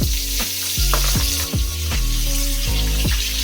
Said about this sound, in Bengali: প্রথমে আমি পেঁয়াজটা একটু ভালো করে ভেজে নেব